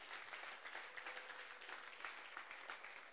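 A church congregation at a prayer service applauding: continuous, dense clapping that sounds faint and distant and holds steady throughout.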